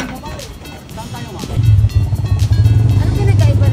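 Motorized tricycle engine rumbling close by on Siquijor island, swelling louder midway and holding a steady drone under a person talking.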